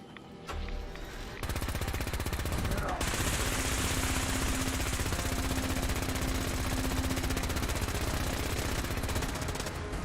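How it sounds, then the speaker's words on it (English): Sustained minigun fire in Fallout 4, a dense rapid rattle that starts after a brief lead-in and runs loud and continuous nearly to the end. "we got the minigun out, and we're trying to burn up ammo"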